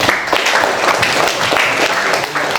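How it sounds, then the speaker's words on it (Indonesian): Classroom audience applauding together, a dense, steady burst of many hands clapping close by for a few seconds with a faint voice underneath. "Tepuk tangan semua."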